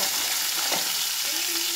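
Sliced onions sizzling loudly and evenly in a hot pan as they sauté, with soft stirring scrapes under the constant frying hiss.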